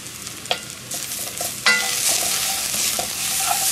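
Roux being stirred into smothered steaks in a pan, with a steady sizzle rising partway through and scattered scraping clicks of the utensil against the pan, close and moderately loud.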